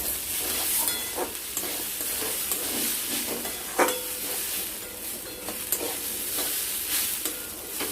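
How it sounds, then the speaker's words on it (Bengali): Rice stir-fried with spices in a pan for egg pulao, a constant frying sizzle with repeated scraping stirs and a few sharper clacks of the spoon, close and steady throughout without speech. "এটাকে ভালো মতো করে কষবো চালের সাথে মশলাটাকে"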